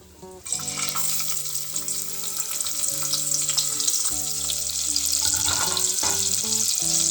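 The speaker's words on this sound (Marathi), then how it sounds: "फोडणीला थोडासा कांदा घालायचा" Oil sizzles and crackles steadily as onion fries in a pot, close up, with soft melodic music playing underneath.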